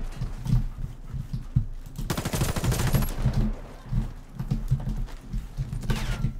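Automatic gunfire in the online shooter Warface, with loud rapid bursts and a dense stretch of rattling shots in the middle, scattered near shots before and after.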